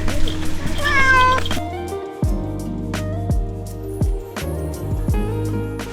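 Cat meowing repeatedly inside a cave temple, Wat Tham Phu Wa in Kanchanaburi, several rising and falling cries up close under background chatter and a person talking.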